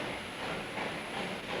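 A train running on a branch line railway gives a steady, close rumble with a hissing wash of wheel and carriage noise. No voices are heard over it.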